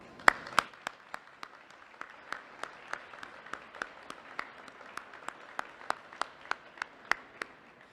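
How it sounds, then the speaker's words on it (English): Sparse clapping honoring the Illinois National Guard at a COVID-19 vaccination event with Governor Pritzker: a small group claps in distinct, evenly spaced claps over a quiet room, fairly close and moderate in level. "Please join me in giving our Illinois National Guard a big round of applause."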